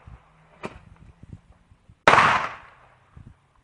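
Firework lit and exploding outdoors near a house, with a small pop first, then one loud sharp bang that decays over half a second, amid faint rustling.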